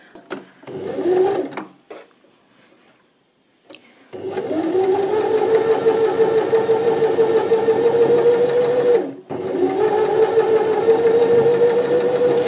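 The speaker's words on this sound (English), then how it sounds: "So you're stitching in the ditch along that edge." A sewing machine stitches in the ditch along a bias-bound Hong Kong seam edge, running in a short burst, pausing, then humming steadily in two long close, loud runs with a brief stop between.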